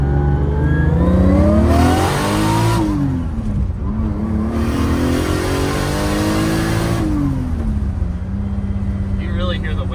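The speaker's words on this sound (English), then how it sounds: "You can really hear the wastegate now." A turbocharged 1JZ engine in a Toyota Aristo with a custom exhaust idles and revs loudly up close, rising and falling in pitch over a steady exhaust drone, with a pronounced wastegate hiss.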